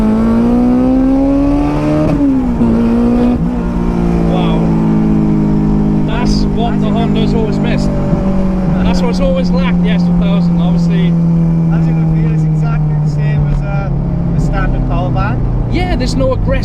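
A supercharged Honda S2000 engine revs up and accelerates with a smooth, rising whine, loud and continuous, with people talking over it.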